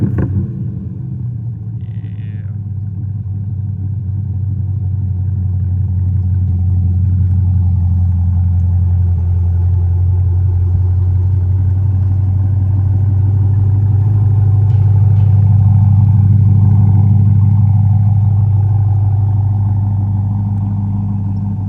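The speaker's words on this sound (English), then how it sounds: "But the SBDZ1 exhaust sounds pretty good too." A deep, throaty exhaust from a C8 Corvette with an SBDZ1 exhaust, rumbling at close range, swelling and easing as the engine is revved up and settles again.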